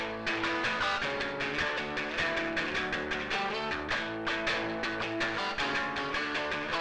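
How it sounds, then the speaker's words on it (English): Layered distorted lead electric guitars from a song mix play a driving lead line with sustained notes over a steady rhythmic backing, loud and full throughout. "Altogether, the lead guitars sound like this."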